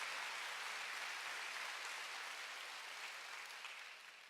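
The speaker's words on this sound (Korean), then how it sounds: "박수를 하세요." A church congregation claps during a Korean sermon, a soft, even wash of applause heard from a distance that fades slightly toward the end.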